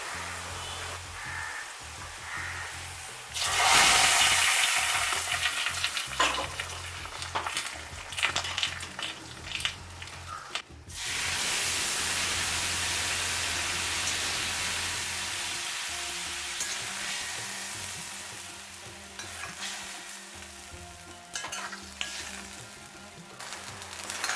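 A tempering of onions frying in oil until brown for a traditional Kerala sadhya rasam, a steady loud sizzle with stirring clatter and a burst of hissing midway as it continues on its own.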